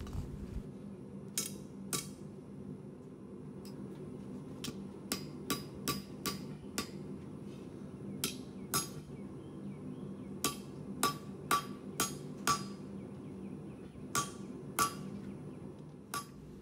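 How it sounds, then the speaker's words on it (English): Hammer blows on rebar being forged into an arrowhead, upsetting the metal: sharp ringing metallic strikes in irregular clusters, some fast doubles, close and clear over a low background hum. "Here's where we started forging the arrowhead. We started by upsetting the metal for a larger socket."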